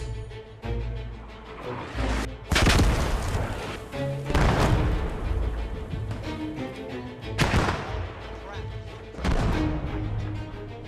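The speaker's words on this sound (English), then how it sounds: "the Germans immediately start hitting our position with pre-ranged mortars" Pre-ranged mortar shells exploding around a position in a World War II video game: several loud, sharp booms at irregular intervals over a steady background rumble, with faint voices underneath.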